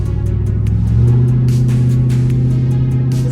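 A 408ci stroker LS V8 in a Trans Am runs steadily with a deep, loud, rumbling idle, close by with no talk over it.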